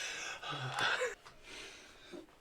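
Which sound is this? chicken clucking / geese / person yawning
person yawning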